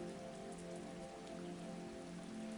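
Steady rain falling on a surface, an even, continuous hiss of dense raindrops at low volume with no gaps, no voices and no other sounds.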